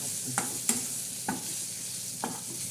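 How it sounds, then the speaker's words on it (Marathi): Spices and turmeric sauté in hot oil for shev bhaji, a steady close sizzle broken by four distinct scrapes and taps of a spoon stirring the pan. "म्हणजे चांगलं फोडून फोडणे देऊन म्हणजे असं चांगलं परतून घेणार आहोत"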